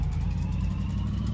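A Chevelle engine idling low on fuel in a garage, a steady low rumble close by, with no talk.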